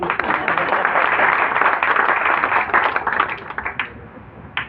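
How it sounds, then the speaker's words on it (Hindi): Audience at a literature gathering clapping loudly on request, a dense burst of many hands that swells and then tapers off over nearly five seconds, ending with a last few scattered claps. "तो ताली बजा दो जोर से"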